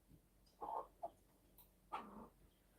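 Rooster gives a few short, faint chirping calls, two brief clucks and then one longer call, heard alone in a quiet outdoor setting.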